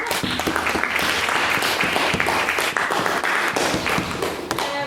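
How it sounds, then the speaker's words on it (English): An audience at a debate applauds a maiden speech, producing steady, dense clapping that fills the room for several seconds before easing slightly, with no voices over it. "I'm going to give Ryan another round of applause for his maiden speech"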